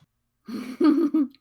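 A person imitates a cow's sneeze: a single voiced sneeze-like burst, short and close, with a breathy lead-in and a throaty finish.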